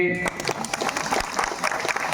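Audience clapping at a Hindu gathering, a burst of many hands that starts after a brief voice and continues steadily, moderately loud.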